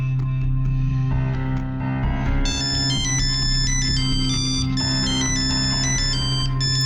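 A mobile phone ringtone sounds for an incoming call, loud and continuous, with a steady electronic melody of bright repeating tones that thickens partway through.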